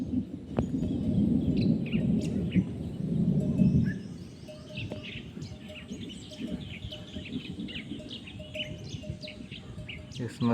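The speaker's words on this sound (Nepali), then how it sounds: "ए चरा रहेछ उ त्यहाँ" Birds chirp outdoors in a village with short, scattered calls, faint and somewhat distant, over a low background rumble.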